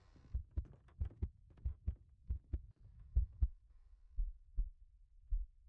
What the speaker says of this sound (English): Why is your heart beating?